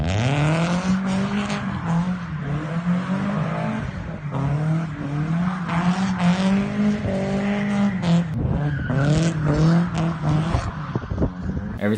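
A Nissan 240SX four-cylinder driven hard: a loud, close engine note that rises and falls as it revs through the gears, continuous for the whole stretch with no talking.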